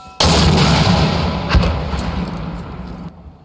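Mortar fire during US Marine infantry training sounds as a sudden loud boom that cuts in sharply and is followed by a rumbling, sustained report with a second thump midway, then fades after about three seconds.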